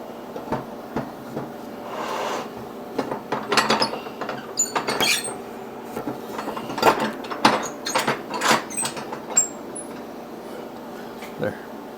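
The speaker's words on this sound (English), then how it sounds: "But I'm gonna have to start using my vise here." A bench vise is cranked and adjusted to clamp a fuel rail for a boosted 427 small-block Ford EFI build, producing intermittent ratcheting clicks, metallic clanks and rattles close by, with someone talking between them.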